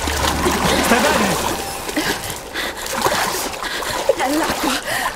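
Water in The Quarry splashes and churns loudly and continuously near at hand, with agitated movement through it and voices breaking in over the turbulence.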